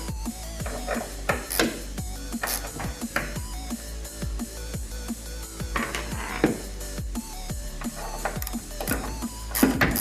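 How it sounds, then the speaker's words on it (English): A ratchet fitted with a T15 bit works loose the tail light screws on a 2020 Silverado, with quick repeated clicks and metallic ticks up close and no talking. "You're just gonna need a ratchet and a T15."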